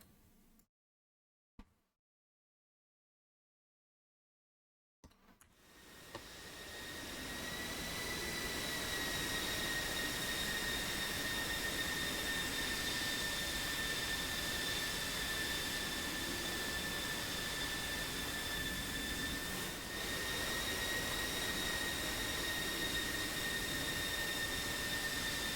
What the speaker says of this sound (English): Here comes Toro Squadron. Taxiing at a fairly decent speed here.